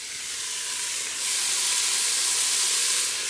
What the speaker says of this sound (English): I'm gonna cook the onions first because it gets sweeter if you cook the onions in the grease